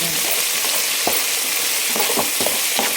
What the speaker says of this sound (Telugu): సో కలగెట్టుకుంటూ ఉండాలి బంగాళదుంప కొంచెం మగ్గే వరకు వేయించుకుంటే సరిపోతుంది